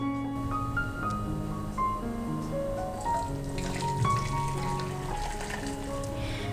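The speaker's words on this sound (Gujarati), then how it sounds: "હવે આ ગોળવાળા પાણીને આપણે ગાળી લેશું" Jaggery water, heated for a sweet wheat-flour pudla batter, is poured through a strainer in a home kitchen, giving a steady trickling splash under a layer of background music.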